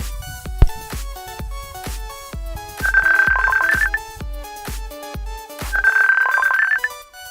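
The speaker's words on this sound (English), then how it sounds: "I'm receiving incoming call." A phone ringtone sounds for an incoming call, a loud, close melodic electronic pattern with rhythmic beats and sustained tones that repeats in two cycles, with no talk over it.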